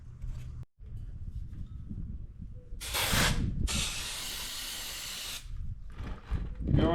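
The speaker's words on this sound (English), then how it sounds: "let me find some cleaner and spray that off with brake clean." Brake cleaner hisses from an aerosol can in two bursts, a short one then a longer steady spray, onto parts of a 43-year-old motorcycle, with quieter handling noises before and after.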